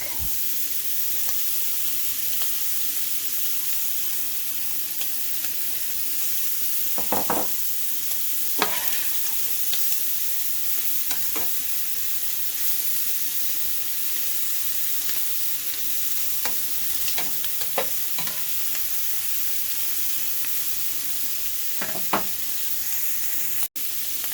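Garlic and shrimp sauté in a pan, a soft continuous sizzle with occasional stirring scrapes and knocks, fairly quiet and without speech.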